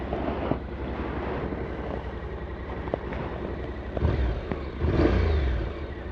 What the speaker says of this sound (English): that parallel twin makes it sound very much like a bike